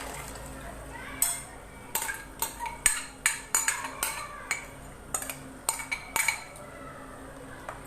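A metal spoon clinks and scrapes against a pot while mixing a ground coconut and fennel paste for a plain salna, with about a dozen sharp, uneven knocks close by over a faint background hiss.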